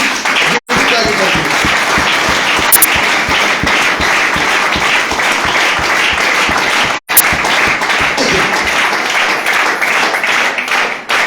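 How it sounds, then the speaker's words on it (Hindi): Loud, sustained audience applause at a direct-selling company gathering, dense continuous clapping from a large crowd with two very brief breaks. "तो मैं चाहूंगा एक बार जबरदस्त ताली होनी चाहिए हमारी कंपनी के CMD"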